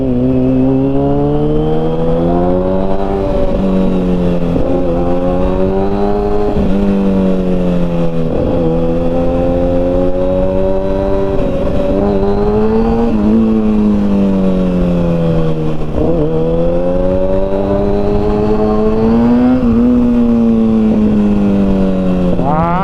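A 2009 Kawasaki ZX-6R sport motorcycle engine runs continuously nearby, its steady hum rising and falling as the throttle is blipped in repeated revs.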